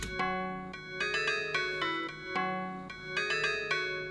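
A bright synthesizer melody of bell-like, sustained notes steps along at a steady moderate pace, playing alone with no voices.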